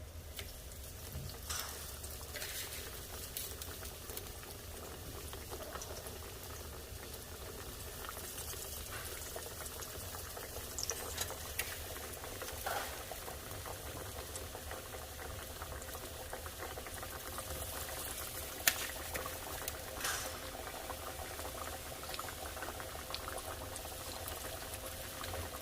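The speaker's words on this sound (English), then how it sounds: "Now I'm going to fry these." Thin chicken cutlets frying in a pan give a steady, fairly quiet bubbling sizzle that runs continuously throughout, with occasional small pops and clicks and no talking.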